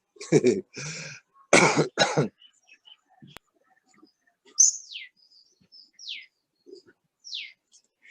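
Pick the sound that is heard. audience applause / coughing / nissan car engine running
coughing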